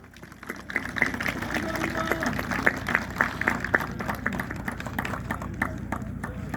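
A crowd applauds at an outdoor opening ceremony for a park golf course, the clapping dense and sustained, with scattered sharper claps and murmuring voices underneath.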